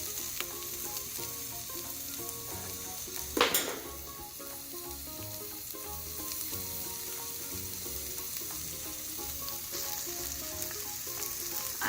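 About 400 grams of mince fries with softened onions in a pan for lasagna, a steady close sizzle throughout with a sharp clack of a utensil partway, soft background music tones running underneath.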